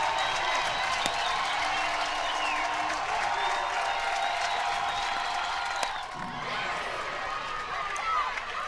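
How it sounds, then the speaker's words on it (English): Fans at a Texas vs Tennessee college softball game keep up a steady, moderately distant cheer and clapping, with a broadcaster talking over the crowd noise. "The crowd is pumped up."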